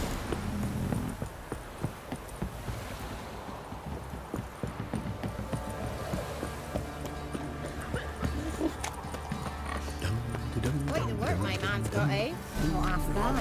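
Roach, the horse in The Witcher 3, trots with a steady clip-clop of hooves. Game music and voices play throughout and nearly cover the hoofbeats.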